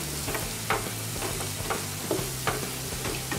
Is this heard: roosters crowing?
no